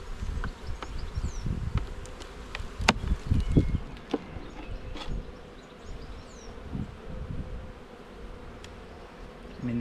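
A steady drone of honey bees rises from an under-populated hive box during inspection, with louder passes of individual bees flying near and light knocks and rustles of handling mixed in; nobody speaks.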